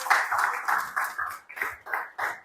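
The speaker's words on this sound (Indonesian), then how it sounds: "Beri tepuk tangan untuk kelompok 1 karena sudah mempresentasikan hasilnya." A small group in a classroom claps for a presenting group, giving a series of about nine uneven, distinct bursts of handclaps close by.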